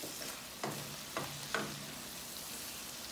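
Garlic shrimp sizzle softly in a pan, broken by three distinct scraping stir strokes within the first two seconds before the quiet frying hiss settles on alone.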